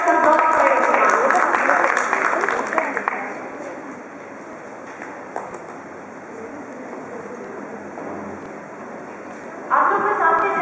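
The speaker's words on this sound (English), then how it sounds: "Can we have a round of applause for everyone?" An audience at a Montessori teachers' training workshop claps for a group, a burst of applause that fades to scattered clapping and room noise, with voices talking over it near the end.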